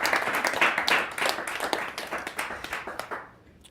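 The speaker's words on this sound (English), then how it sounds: "applause here would be appropriate" An audience applauds after a card mentalism trick. Brisk, close clapping from many hands fills a few seconds before tapering off and fading out at the end.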